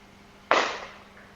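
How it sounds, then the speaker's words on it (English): Fireworks going off outside, a single sharp bang that decays quickly and sounds somewhat distant, with no voices over it. "You hear that? Yeah, what was that? Fireworks? Fireworks."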